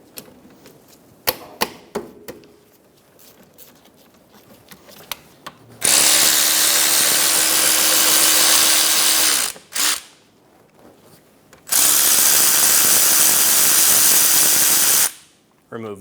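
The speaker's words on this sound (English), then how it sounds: "Using a 14mm socket, we're going to remove the caliper bolts." Caliper bolts being removed with a 14mm socket during a front brake job on a 2003-2007 Honda Accord: scattered clicks and taps, then two long, loud, whirring power-tool bursts of about four seconds each, separated by a short pause.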